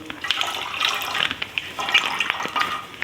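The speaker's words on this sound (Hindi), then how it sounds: "इधर मैंने दूध लिया" Packaged milk is poured into a pan for Eid seviyan, a steady close splashing and gurgling stream with small splatter and clinks running through it.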